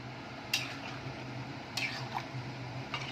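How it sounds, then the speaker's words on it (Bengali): Chilli chicken being stirred in a pan after water is poured in, with a low bubbling simmer underneath and three distinct sharp scrapes and clinks of a spoon against the pan. "মশলা ধোয়া যে জলটা ছিল ওটা আমি দিয়ে দিলাম, দিয়ে একটু ভালো করে নাড়িয়ে নেব"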